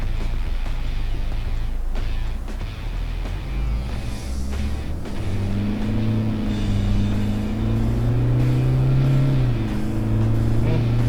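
A Toyota Revo Rocco pickup with a six-speed automatic accelerating on the road, its engine drone rising steadily in pitch over a continuous cabin rumble and road noise.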